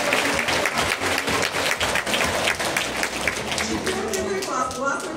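An audience at a primary school graduation ceremony applauds warmly, a dense, continuous clatter of many hands with some voices mixed in beneath.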